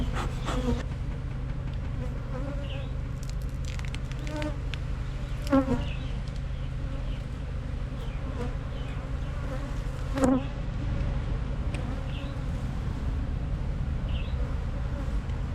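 Honeybees swarming around an opened two-body beehive during an apiary check before winter, a constant close droning hum with individual bees zipping past now and then, and no talking.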